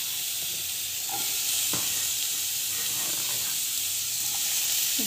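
Chopped onion sautéing in oil in a pan for tomato chutney, a steady close hiss of sizzling with faint stirring clicks now and then, no voices.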